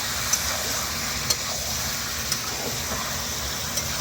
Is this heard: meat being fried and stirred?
yes